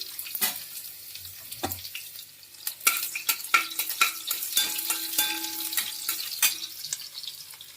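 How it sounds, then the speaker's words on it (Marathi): Mustard seeds and garlic sizzle in hot oil for a spinach dish, with scattered pops and crackles plus a few clinking stirs, close and moderately loud, no voices. "टाकली मी मोहरी तेलामध्ये"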